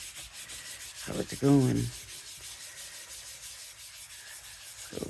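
Sizzix oil pastel rubbed on paper, a few short scratchy strokes close up, with a brief spoken phrase over them.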